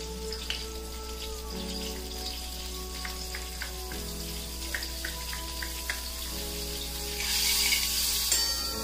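Steady sizzling and crackling of finely chopped garlic frying in hot butter, with scattered small pops over a low hum and a brief hiss near the end.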